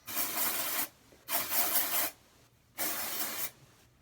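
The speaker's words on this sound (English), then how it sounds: "And so I'll just spray that all throughout my hair." Suave Professionals dry shampoo sprayed through hair, three long bright hissing aerosol bursts, each close and loud and lasting under a second, with brief quiet pauses between them.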